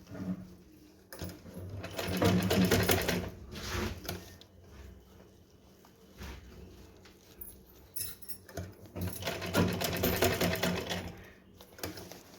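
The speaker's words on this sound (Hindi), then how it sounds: "डोरी को अंदर करते हुए इसके ऊपर सिलाई लगा लेंगे।" A sewing machine stitches over a drawstring waistband on a small doll dress for a Laddu Gopal figure, in bursts of rapid mechanical whirring with short pauses between runs, close and steady with no talking.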